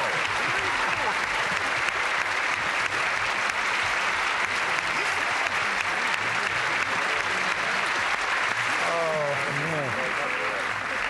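Steady, sustained studio audience applause on the Break the Bank game show, filling the whole stretch evenly, with a voice briefly rising over the clapping near the end.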